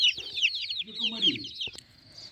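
A brief burst of close chicken clucking from young roosters and hens, high peeping with a lower throaty cluck in the middle, trailing off quickly.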